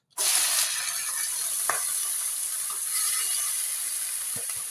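Chopped onion and pepper tossed into a hot frying pan for karnıyarık give a sudden, loud, steady sizzle that hisses on throughout, with a few soft clinks of stirring.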